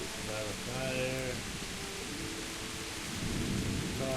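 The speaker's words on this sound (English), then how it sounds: "Some lightning going, some rain" Rain pours steadily while low thunder rumbles in a Kingdom Come game storm, with a voice speaking briefly over the downpour.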